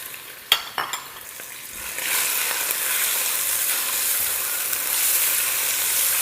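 600 g of small chicken pieces sauté in a pan for a winter soup: a few clinks of utensils come first, then a loud, steady sizzle takes over and holds to the end.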